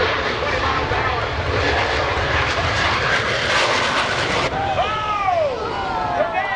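Roaring jet noise at an airshow as the Shockwave jet truck races Rob Holland's aerobatic plane, a loud continuous rumbling blast over crowd babble, with a pitch-sliding engine whine near the end.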